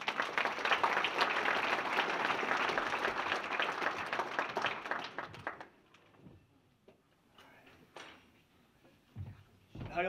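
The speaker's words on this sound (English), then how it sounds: "Once again, a big round of applause for Murray State football player, Mr. Austen Lane." Audience at a Murray State athletics hall of fame induction applauds loudly with dense clapping for about five seconds, then it thins to scattered claps and small room noises.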